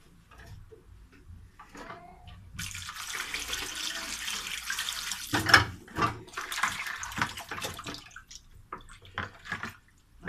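Tap water running into a sink while pieces of rabbit meat are washed by hand, splashing and gurgling in uneven bursts with occasional sharp knocks and drips, fairly close.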